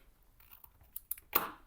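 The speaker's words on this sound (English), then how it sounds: "I can trim that off with my scissors just like this" Scissors trim a white paper edge off a handmade mini book, giving a few quiet snips and one sharper, louder cut at the end, close-up with no talking.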